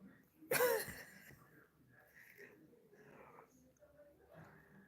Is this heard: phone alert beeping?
no